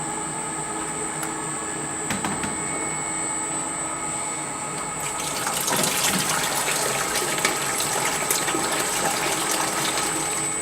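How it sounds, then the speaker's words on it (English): A Presidential soft-serve machine runs its wash mode with water inside, giving a steady mechanical whine and hum that grows into a louder churning, gushing rush of water partway through. "you can go ahead and turn the machine on to wash mode"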